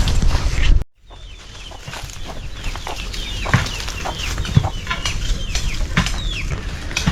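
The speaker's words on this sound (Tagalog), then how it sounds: "Maraming mga manok lumalapit dahil maraming makakain," Several chickens cluck and call in a backyard as they gather to feed, with steady close clucking over a noisy outdoor background after a brief loud opening sound cuts off.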